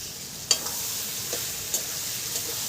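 Ginger, cumin and chili paste sizzle steadily in a hot pan as greens and crab dishes are prepared, with a few sharp stirring clinks and scrapes over the constant hiss.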